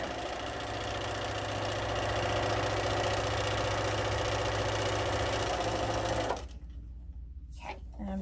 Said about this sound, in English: So I'm just going to do some straight line quilting, nothing fancy or anything like that.